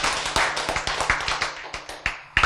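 A short run of hand claps, irregular and fairly close, with no talking over them.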